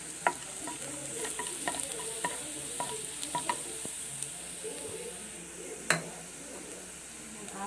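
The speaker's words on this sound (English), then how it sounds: "garlic. Just fry for a minute." Garlic sizzles steadily in a hot pan, with a constant frying hiss and scattered sharp clicks of a utensil stirring it.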